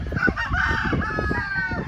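A matured gamefowl rooster on a game farm crows loudly and close, a single sustained call lasting a couple of seconds with no speech over it.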